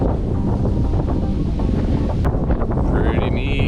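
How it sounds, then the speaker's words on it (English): Strong wind buffets the microphone at a beach in Cancun, a steady loud roar with gusty rumble throughout, joined by a faint higher whine near the end. "it's windy as right now"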